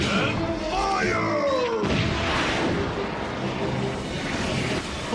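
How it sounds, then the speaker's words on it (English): Andromon's Gatling missile attack firing in a Digimon anime, a dense, continuous roar of launched missiles and blasts with crashing impacts, loud and sustained. "Then he uses his Gatling attack, which is that fish missile attack that I talked about."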